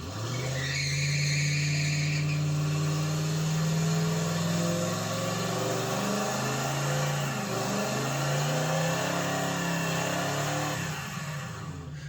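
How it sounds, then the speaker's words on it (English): A 1970 Chevelle does a burnout, its engine roaring loud and steady with screeching tire squeal on gravel, sustained for several seconds before easing off. "you can hear the gravel sticking to the tire"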